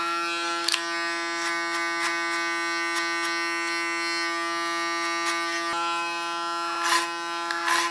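Electric hair clipper buzzing steadily through an ultra short summer haircut, a close continuous motor whine with brief bursts of louder cutting near the start and end.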